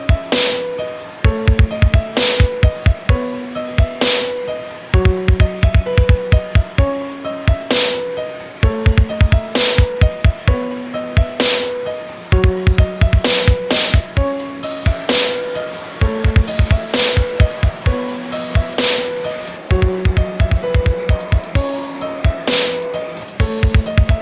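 A bar is tack-welded onto a car subframe being notched for a rear-wheel-drive swap, with repeated short bursts of loud crackling arc, each a few seconds long and separated by brief pauses.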